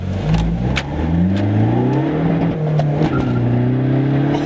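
A nitrous-fed hybrid-turbo VW Polo TDI diesel under hard acceleration, engine note climbing steadily and loud from inside the car, with a brief dip around a gear change and no talking.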